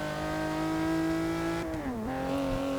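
Ferrari V12 in Forza Motorsport 6 holding a loud, steady bellowing engine note, dipping briefly as it shifts and then climbing again, with no voices over it.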